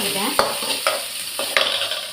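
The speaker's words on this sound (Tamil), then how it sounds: "வெங்காயம், கருவேப்பிலை, பச்சை மிளகாய் எல்லாம் போட்டு விரட்டிக்கிட்டேன்." Onion, curry leaves and green chilli sauté in a pan for a tomato kulambu, with a soft steady sizzle broken by about four sharp spatula scrapes against the pan. Close and fairly loud, with no talking.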